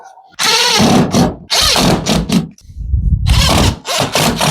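A power drill drives screws back into the panel of an LG washing machine, several whirring bursts of varying length with short pauses between, close and loud.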